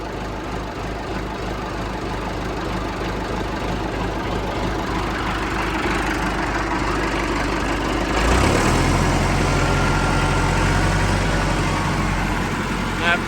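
A John Deere 450 tractor engine idles steadily and loud, with a deeper, heavier rumble kicking in partway through as it runs on.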